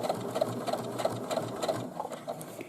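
A domestic sewing machine topstitches fabric straps onto a tote bag, its needle running in a steady, even rapid chatter throughout with a regular pulsing rhythm, close and moderately loud, with no voices.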